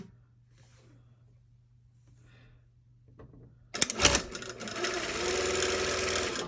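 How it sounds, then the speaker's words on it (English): A sewing machine runs a second seam at about 1 centimetre, starting suddenly after a quiet stretch with faint talk, then humming steadily and close for several seconds. "we're just going to sew a second seam"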